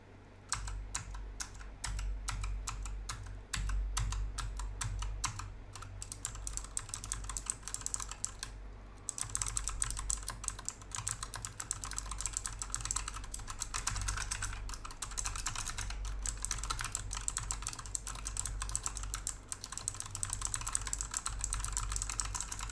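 Rapid, continuous computer keyboard typing recorded through a Maono AU-902 Fairy Lite microphone, dense clattering keystrokes, close and fairly loud, with a brief pause before the tapping resumes; no voices.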